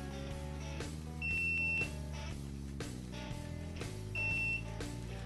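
A cheap BSIDE ADMS7 pocket multimeter gives two short, high continuity-test beeps about three seconds apart over a steady low background hum.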